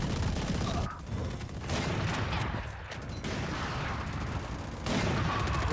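Steady, dense gunfire from a weapon in the video game Valorant, dropping briefly twice before resuming, continuous and fairly loud with no talk over it.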